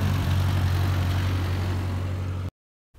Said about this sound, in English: driving his tractor across the valley